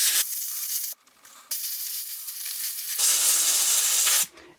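Carburetor cleaner sprays out in loud, close hissing blasts onto a fidget spinner, three bursts separated by brief pauses.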